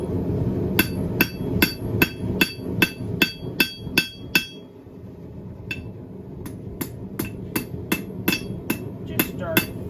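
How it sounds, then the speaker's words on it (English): A hammer strikes a heated iron bar on an anvil to flatten it for blacksmith tongs, sharp ringing blows in a quick steady run, a short pause, then another series of hits, close and loud. "just start flattening it, and then we're gonna draw this out until it's half-ish the thickness of this"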